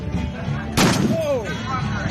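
A DShK .50 caliber heavy machine gun fires a single loud, sharp blast at an outdoor shooting event, heard over nearby talking voices.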